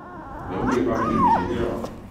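A three-month-old puppy whimpers and yelps during its rabies vaccination at a veterinary vaccination centre, a short high whine rising and falling over a busy background with nearby voices.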